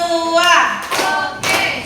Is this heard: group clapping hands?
yes